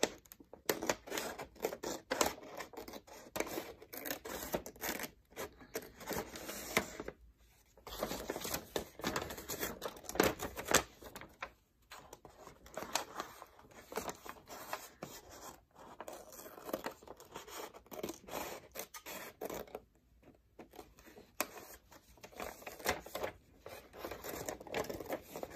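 Steady snipping and rustling of paper being cut with scissors, close up, with irregular crinkling and brief pauses throughout.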